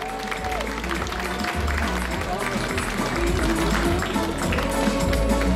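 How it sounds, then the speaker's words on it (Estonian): Crowd applause at an outdoor prize-giving podium for the FIA Historic auto24 Rally Estonia, honoring a Porsche Carrera crew, steady and dense throughout with a public-address voice and music underneath. "Aplaus veel!"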